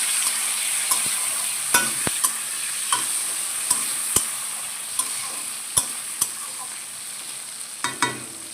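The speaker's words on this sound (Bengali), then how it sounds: "এভাবে নেড়ে চেড়ে এবারে ওকে দিয়ে দেব আমি টমেটো কুচি" Chopped tomatoes frying in oil for paneer biryani, a continuous sizzle broken by sharp, regular scrapes and taps of a spatula stirring the pan.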